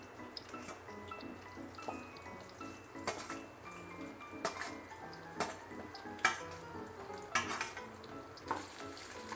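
Okra pieces frying in hot oil in a kadai, a steady low sizzle broken by repeated stirring scrapes and clinks of a spatula against the pan, faint and close.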